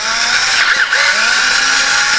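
Power drill in drill mode boring into a stripped bolt hole, a loud, steady high-pitched whine that dips briefly partway through, then holds.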